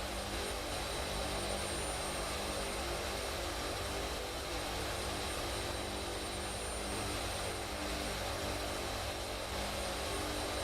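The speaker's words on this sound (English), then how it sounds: "One of the nice things about this aircraft is it is a VTOL, a vertical takeoff and landing." Jet engine of a VTOL fighter aircraft in a flight simulator game, a steady loud broadband roar with a high whine that holds constant throughout, no voices.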